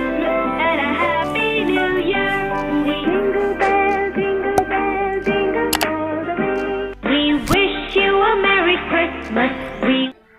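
A Christmas caller-tune song plays from a music app, a continuous upbeat melody with steady accompaniment, fairly loud throughout, a brief break near the end, no talk.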